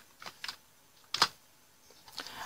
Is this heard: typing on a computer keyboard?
yes